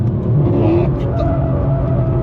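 A Mercedes C63 AMG slides sideways on a race circuit, its engine droning loud and close while the tires scrub through the drift, with a faint voice in the cabin.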